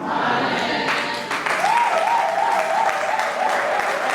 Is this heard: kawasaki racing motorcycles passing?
no